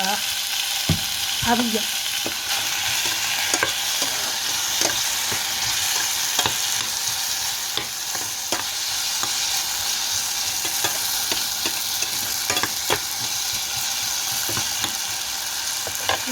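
Tomatoes and salt fry in a pan for drumstick sothi, a steady loud sizzle running throughout with occasional clicks and stirring knocks up close, and a brief word spoken once.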